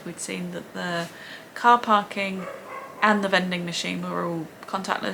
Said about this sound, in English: Apologies if you can hear my dog barking.